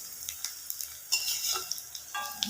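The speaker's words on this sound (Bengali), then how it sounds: "এই যে কালারিং পাঁপড়গুলো, এগুলোকে ভাজছি" Coloured papad frying in hot oil, giving a close, steady crackling sizzle with brief louder bursts of popping spread through the short stretch.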